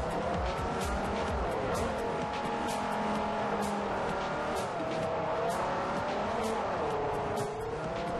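Race car in Forza 4 driven hard through corners, its engine note rising and falling with repeated tire squeals and skids, loud and continuous throughout.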